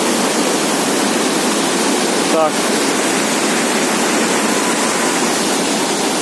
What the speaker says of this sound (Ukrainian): Краєвиди гірської річки, водопаду в місті Яремче, Івано-Франківської області.